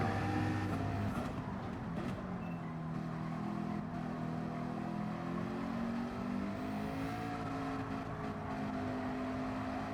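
McLaren race car from Gran Turismo 7, driven in a Nations Cup online race: a continuous engine note that rises and falls with shifting pitch as it revs through gears, steady and fairly loud throughout.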